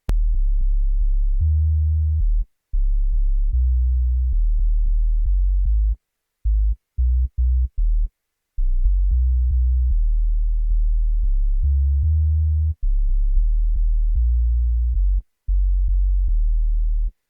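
Punchy synth notes for an amapiano track, a deep, bass-heavy sine-like tone played in short repeated phrases with brief gaps, loud and alone with no voices.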